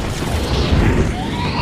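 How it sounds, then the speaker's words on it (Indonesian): A film explosion as a sealed escape room blows up in a survival-game thriller, heard as a dense, sustained low rumble and roar that swells and fades over a couple of seconds with no voices. "Mereka akhirnya berhasil keluar tepat waktu dan ruangan itu pun meledak."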